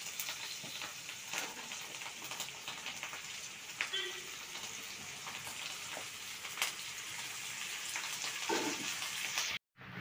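Okra (lady's finger) frying in a pan with onion, curry leaves and garlic for a dry fish curry, giving a steady close sizzle and crackle like light rain that runs throughout, with one brief cut near the end.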